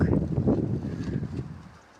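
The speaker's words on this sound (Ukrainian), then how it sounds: "Дивіться, метіль така, що вітер круг." Gusty wind from a snowstorm buffets the microphone in loud, rumbling bursts that fade toward the end.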